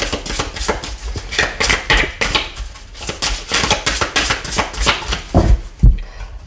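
A deck of oracle cards is cut and shuffled up close, making brisk runs of papery slaps and sharp taps in quick, uneven bursts with no talk.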